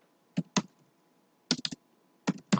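Keys on a computer keyboard are typed in three short clusters of two to four crisp taps each, separated by brief pauses, in a quiet room.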